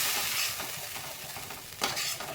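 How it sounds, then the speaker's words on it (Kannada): Masala with cashews stirred in a hot pan for a paneer tikka masala, a steady close sizzle with soft scraping strokes of the spoon, one stronger scrape near the end, no talking. "ಈಗ ಚೆನ್ನಾಗಿ ಮಿಕ್ಸ್ ಮಾಡ್ಕೊಳ್ಳೋಣ. ನಾವು ಗೋಡಂಬಿ ಎಲ್ಲ ಹಾಕಿರೋದ್ರಿಂದ ಸ್ವಲ್ಪ ಮಿಕ್ಸ್ ಮಾಡ್ತಾ ಇರಬೇಕು"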